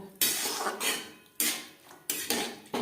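Soaked moong dal and peas being stirred in a pan, a metal spatula clattering and scraping against the pan in several loud bursts with short pauses between, no talk.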